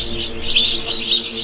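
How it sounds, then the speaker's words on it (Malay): Newly hatched village chicken chicks chirp continuously, a dense run of high, shrill peeps close by and fairly loud, with no talking. "Nampak anak ayam yang ditetaskan di telur ayam kampung."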